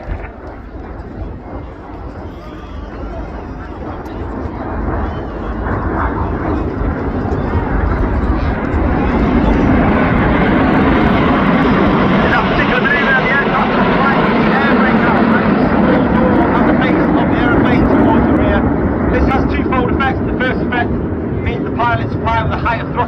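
Red Arrows display jets fly past at the 2025 Blackpool airshow with a loud, broad jet roar that swells over several seconds and then holds, sustained and close, with wind buffeting the microphone.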